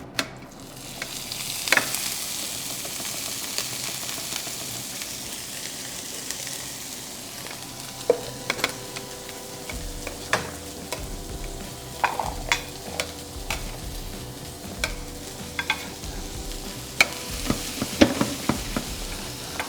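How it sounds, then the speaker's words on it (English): Chopped onion fries quietly in a pan being prepared for okra, a soft steady sizzle punctuated by frequent sharp clicks and scrapes of a utensil stirring. "So in our pan for our okra, We're gonna add a little bit of onion."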